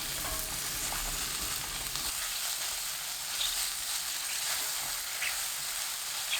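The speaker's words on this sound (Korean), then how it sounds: "그 기름에 새송이 버섯 넣고 센 불로 2분 볶아주세요." King oyster mushrooms stir-fried on high heat in garlic-infused oil, a dense, loud hissing sizzle that fills the whole stretch, with a brief rattle of stirring near the start.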